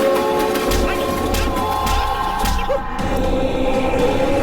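Train passing near Villupuram on the way to Chennai, a continuous loud rumble and rattle of rolling wagons with faint clacks and thumps, voices low under it.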